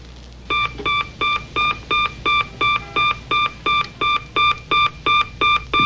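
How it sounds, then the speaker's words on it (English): A smoke alarm beeps in a steady, regular pattern of about fifteen loud, evenly spaced electronic tones, each with a sharp start and stop, with no voices. "I just set off my smoke alarm."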